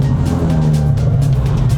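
A Nissan 370Z fitted with a Greddy EVOlution GT cat-back dual exhaust drives slowly in circles inside a shop, giving a deep, steady engine drone that stays close and loud throughout.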